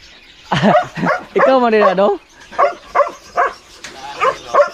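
A newly acquired dog gives a few short yips and barks between bursts of nearby talking, the animal sounds close and mixed in with the voices.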